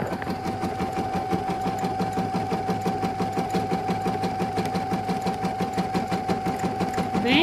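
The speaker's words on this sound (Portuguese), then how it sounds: "coloquei a minha linha, abaixei o pé calcador e vou dar play." Embroidery machine with thread loaded and presser foot lowered stitches a design, a steady rapid mechanical chatter with a constant whine, close and even throughout.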